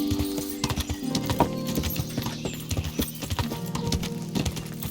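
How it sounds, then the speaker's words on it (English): Rapid clip-clop of a horse galloping over rough ground in a video game, loud and continuous with rhythmic hoof beats, a brief whinny and game sounds layered over it. "mira, este caballo es todoterreno"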